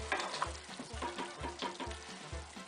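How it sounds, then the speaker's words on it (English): Sugar syrup for Lebkuchen at a hard boil in a pot on the stove, bubbling and popping up close, with regular low knocks in a steady rhythm, no one talking. "it's going to be really boiling here"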